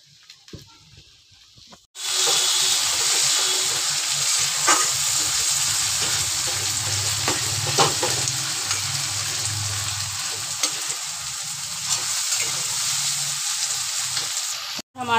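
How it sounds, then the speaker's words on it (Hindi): Steady loud sizzling of green peas frying in a hot pan, with occasional stirring scrapes, starting abruptly after a short quiet moment and continuing throughout. "और अब मैं इसमें डाल दूंगी मटर को"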